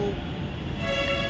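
A metro train sounds at a metro station, giving a continuous rumbling wash with a sustained tonal whine or horn-like note rising near the end. No one speaks over it.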